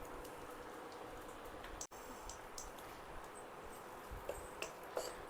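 Chopped onions sizzle in hot ghee in a pan, a steady soft frying hiss with faint scattered pops and crackles throughout.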